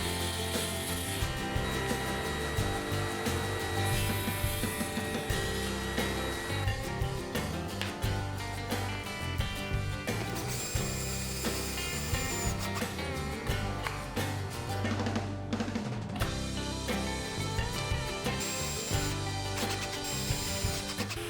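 Wooden tool rest pieces are machined on a homemade lathe, giving loud, continuous rough grinding and rattling cutting noise with fluctuating mechanical chatter that runs steadily for about twenty seconds.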